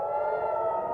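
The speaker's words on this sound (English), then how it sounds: "As sirens wailed, missiles arced over the Lebanon-Israeli border." A steady air-raid siren wail near the Lebanon-Israel border holds one sustained tone, loud and continuous for the whole brief moment, with nothing else audible.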